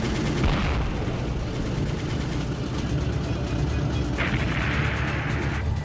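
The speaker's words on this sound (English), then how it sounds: "dive through hails of anti-aircraft fire" Anti-aircraft fire rises around a WWII TBM Avenger torpedo bomber on a diving bombing run, a dense, unbroken barrage of gunfire and booms at constant loudness with a roaring, rumbling backdrop.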